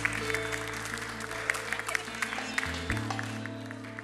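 Audience clapping on a Turkish music and entertainment show as a Roman orchestra is introduced, with sharp individual claps over sustained instrumental tones that shift pitch near the end.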